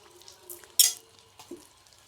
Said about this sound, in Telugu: ఇప్పుడు దీని వేడికి రెండు కలిపి అవుతాయి, ఫ్రై అవుతుంది మంచిగా